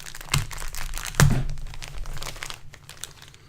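A cloth map from a God of War collector's edition is unfolded close by, with soft crinkling and rustling and two sharper snaps as the folds come open, fading to quiet handling.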